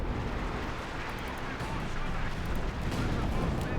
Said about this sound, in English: Artillery strike on the 5th Cal here.